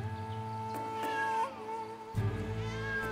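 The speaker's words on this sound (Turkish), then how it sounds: "Kediler bile özlemiş beni miyav miyav." A cat meows close by in a few drawn-out, wavering cries over a steady tonal background, with no voices.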